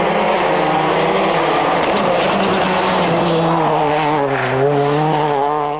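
Rally car during a pre-event asphalt test for the 2002 Catalonia rally, its engine loud and close as it revs hard, the pitch rising and falling through gear changes, with no voices over it.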